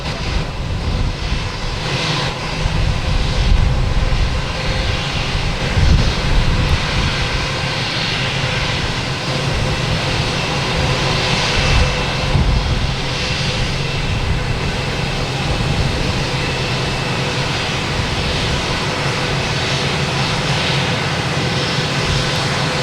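A JetBlue Airbus A220 jet airliner arriving from Dallas Fort Worth to land at Boston Logan Airport, its engines roaring steadily and loud throughout, with broadband rushing noise swelling slightly mid-pass.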